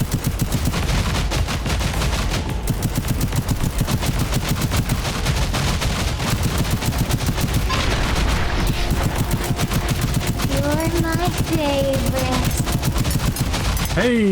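Rapid, relentless gunfire from the video game Scathe fills the whole stretch in dense, loud bursts like machine-gun fire, with a voice speaking faintly near the end.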